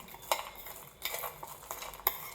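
A spoon stirs roasted chickpeas seasoned with lemon and chili in a bowl, giving a few sharp clinks and scraping rattles spaced about a second apart, close and fairly quiet.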